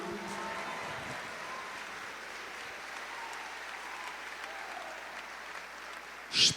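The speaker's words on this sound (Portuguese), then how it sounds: "Aplauda ao Senhor com alegria" A church congregation applauds in praise during a sermon, a steady wash of many hands clapping at moderate distance that holds throughout, with a brief louder burst near the end.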